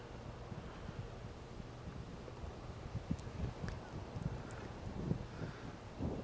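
High-elevation wind on Tioga Pass blows as a soft, constant breathy rush with a faint low rumble against the microphone, quiet and unbroken, with no voices.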